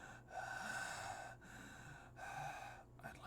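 A voice imitates heavy breathing in three slow, loud gasping breaths, each with a raspy, hoarse edge and short pauses between them, heard up close with no other talk.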